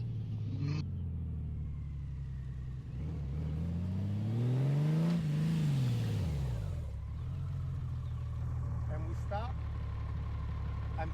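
A Honda Goldwing DCT motorcycle engine rumbles through slow, tight turns, holding a low idle before revving up and easing back down, steady and close.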